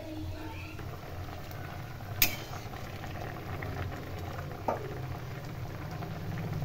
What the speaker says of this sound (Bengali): ঝোলটা ভালো করে ফুটাবো